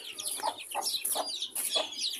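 A hen clucks and squawks on a farm while attacking loose chicks, with repeated sharp, agitated calls close by and high chick peeps mixed in.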